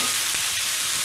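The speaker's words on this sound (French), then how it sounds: "on va prendre une spatule en bois pour pas abîmer notre casserole et on va mélanger un petit coup notre viande" Beef with tomato paste sizzles in a pan while a wooden spatula stirs it, a dense continuous frying hiss with a soft scrape of stirring, close and alone.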